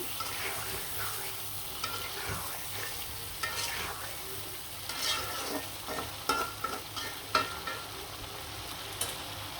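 Spices for a rohu fish curry fry and sizzle in a pan while being stirred, with steady crackling and irregular scraping strokes that run throughout at moderate loudness, and no voices.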